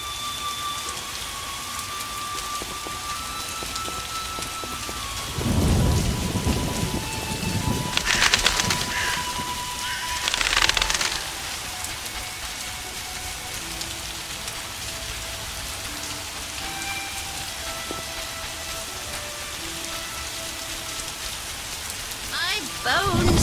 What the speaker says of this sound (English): Rains and it pours.